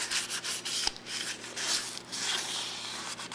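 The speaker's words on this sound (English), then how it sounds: "And you're stuffing it, getting it all sanded down." Continuous rough scratching of sandpaper rubbed back and forth over a Chevelle SS wheel in uneven strokes, close and fairly loud, with one brief knock.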